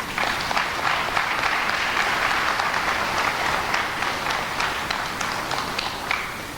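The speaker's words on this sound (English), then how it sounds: "Can we give them a round of applause?" A large crowd at a Dillard University convocation applauds in a sustained, even wash of clapping.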